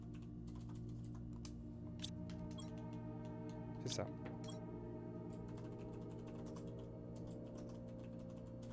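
Someone types on a QWERTY computer keyboard while playing a planet-building PC game, producing scattered quiet key clicks with a few sharper taps, soft and close under low background hum, with a brief spoken remark.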